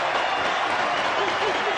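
Cricket crowd at a 1992 World Cup semi-final between Pakistan and New Zealand applauding a dot ball: a dense, steady wash of clapping and crowd roar, loud and continuous throughout the brief moment.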